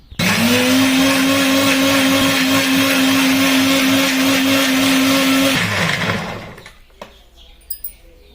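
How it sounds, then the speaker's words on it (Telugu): A mixer grinder whirs loud and steady for about five and a half seconds while blending soaked tamarind for Andhra fish curry, then winds down, followed by a few faint clicks. "చింతపండు నానబెట్టుకున్నాం చూడండి ఇది మిక్సీకి వేసుకుంటాం"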